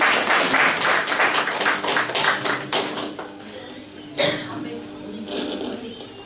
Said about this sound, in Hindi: ताली बजाएं आप सभी।